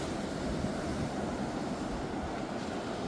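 Waves wash steadily onto a Norfolk beach on a calm October day, a continuous broad rush of surf with wind, no talk.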